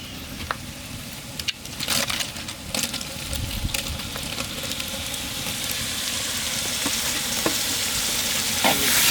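Onions sautéing in a pot for quail biryani in a village kitchen, a loud, continuous sizzle with repeated scraping stirs and clinks, close and busy throughout.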